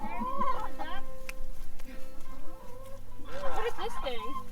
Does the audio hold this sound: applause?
no